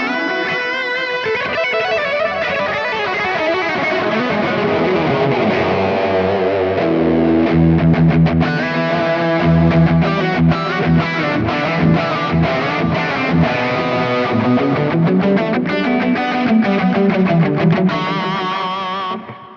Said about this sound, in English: Bring in some reverb.